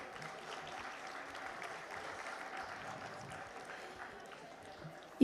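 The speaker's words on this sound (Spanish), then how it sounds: "Un aplauso, por favor, para YASA Caterpillar." Audience applause at a gala dinner event, a faint, distant, steady patter of many hands clapping that holds evenly for several seconds with light crowd murmur underneath.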